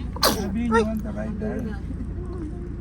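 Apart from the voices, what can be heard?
sneeze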